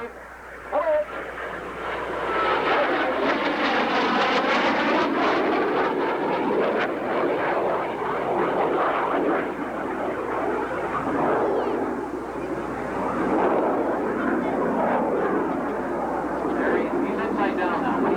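A small aircraft flies overhead during a 1984 centennial parade day in Birtle, its engine drone steady and fairly loud throughout, with faint voices of onlookers underneath.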